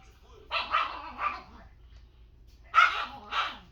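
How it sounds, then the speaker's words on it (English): Dogs bark in the distance in two short clusters of sharp, moderately loud barks separated by a quiet gap, heard alone without talk. "I swear those dogs are going to drive me nuts."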